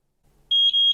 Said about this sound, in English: You heard it talk to us and make a beep when we scanned that QR code